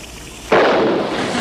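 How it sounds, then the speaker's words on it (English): A sudden explosion bursts out of near silence on a television comedy soundtrack, with a sharp loud onset and a broad roar that trails off without fading fully. "what was that explosion?"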